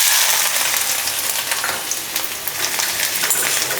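Half a cup of chopped ginger fries in hot oil on a South Indian stove, giving a loud continuous close-up sizzle with crackling spits and a little stirring, without any speech.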